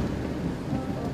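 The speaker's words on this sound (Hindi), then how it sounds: "आज बारिश हो रही है" Rain pours steadily in a brief, dense, continuous wash of noise with no voices.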